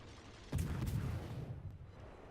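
Heavy main-battery salvo from the British battleship Warspite in a naval combat game, a single loud broadband boom with a rumbling low tail that fades over a couple of seconds.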